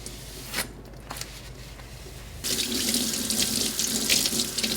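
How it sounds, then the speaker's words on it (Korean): A kitchen knife washed with detergent under a running tap: quiet rubbing and scrubbing first, then the faucet gushes strongly and water splashes over the blade, close and loud. "일단 세제로 칼날을 세척 먼저 하고요"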